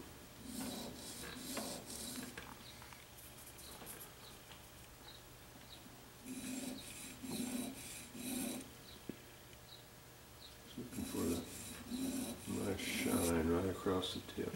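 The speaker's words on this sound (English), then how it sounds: "just kind of burnish, sharpen that edge just a little bit" The edge of a carving knife is sharpened and burnished on a fine stone in repeated raspy rubbing strokes that come in bursts at close range. Quiet background noise fills the pauses between the strokes.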